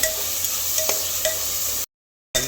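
Tomatoes frying with ground chili paste in a hot pan, a steady close sizzle with light stirring scrapes, cutting off abruptly to a short silence before resuming.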